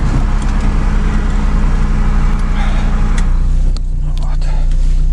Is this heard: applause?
no